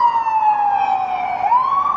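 An ambulance siren on a Denver street wails loud and close in a steady, slowly falling tone that swings back upward near the end, with no talk over it.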